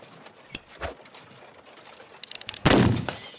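Gunshot in a western video game: a sharp crack near the middle, then a rapid burst of clicks and a loud blast with a decaying tail toward the end, no talk.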